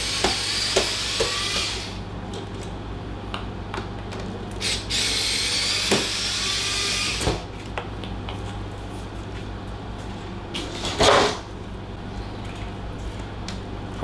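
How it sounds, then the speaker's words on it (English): Power drill backing screws out of a wooden 3D printer shipping crate, with several short whirring bursts of driver spin separated by pauses and faint clicks, close and fairly quiet. "To help with that, I'm going to back some of these screws out."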